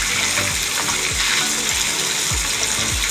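Pangas fish frying lightly in hot oil, a steady broadband sizzle with a few low knocks of the pieces being turned, close and continuous with no voices.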